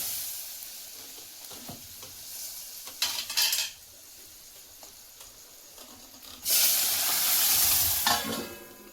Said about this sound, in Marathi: तेल गरम झाल्यावर त्यात भरपूर लसूण, तिखट आणि गरम मसाला घातला